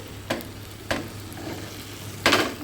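A metal spatula scrapes and drags through thin egg roll batter sizzling in a hot pan, with three distinct scraping strokes spaced apart over a soft, steady frying hiss.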